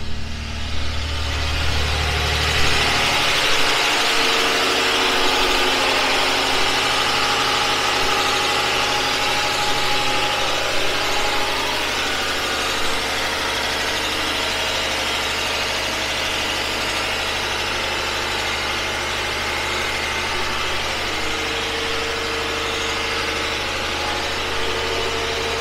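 A 15 kW wood gasifier generator engine runs steadily with a continuous droning hum and vibration, a low rumble settling after the first few seconds, close and loud with no talk.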